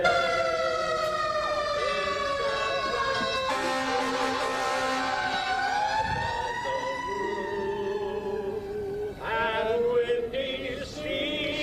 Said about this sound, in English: That's the moment that the siren commemorated the time that the earthquake struck San Francisco 118 years ago.